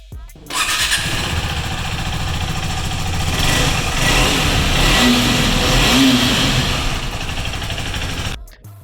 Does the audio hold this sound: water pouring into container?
no